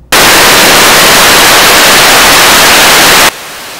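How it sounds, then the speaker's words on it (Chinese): Firecrackers exploding in a dense barrage as a deity's palanquin carrying Tudigong is borne through them during a Lantern Festival temple procession in Neihu, Taipei; a loud, continuous crackling roar fills most of the clip and then cuts off abruptly. "载着土地公的神轿走进南方的鞭炮阵中，火光四射，炮声隆隆，烟雾弥漫，震撼度十足。"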